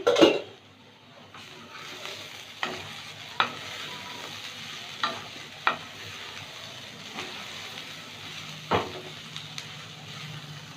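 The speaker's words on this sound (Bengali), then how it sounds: "এবার ভালো করে ভেজে নেব" Bottle gourd peel frying in a pan with poppy seeds and green chilies, a soft steady sizzle broken by about ten sharp scrapes of a spatula stirring at uneven intervals.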